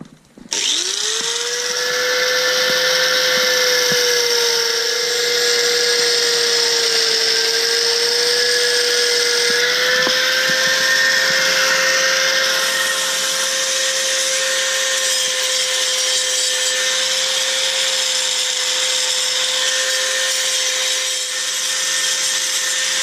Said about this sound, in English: Just use the Dremel to try and clean this up a little bit.